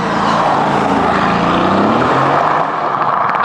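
Loud, rising engine roar from a 750-horsepower Mercedes-AMG GTS passing outside, a continuous heavy exhaust bellow swelling and shifting in pitch across a few seconds, with no speech.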